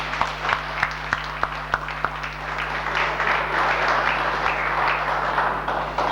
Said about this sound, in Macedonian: Уште еден аплауз за него.